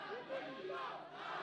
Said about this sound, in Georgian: როგორც იქნა გავიგონეთ გულშემატკივრის ხმა